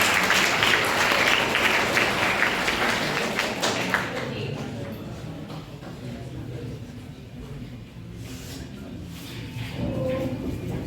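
Audience applause welcoming an official at a Khadi and Village Industries public education programme: a dense, loud wash of clapping for about four seconds that then thins to a lighter, sparser patter, with faint voices underneath.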